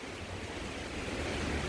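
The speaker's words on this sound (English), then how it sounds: "Today there are gusty winds" Gusty wind of around 40 mph blowing outdoors in a tropical fruit garden, a steady, loud broadband roar that swells slightly without pause, with no voices.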